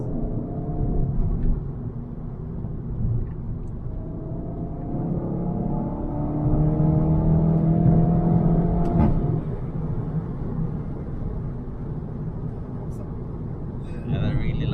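A VW Golf 7.5 R fitted with an Akrapovic exhaust accelerates from inside the cabin, a loud rising engine drone with gear-like sweeps peaking mid-clip, heard over steady road rumble while people talk.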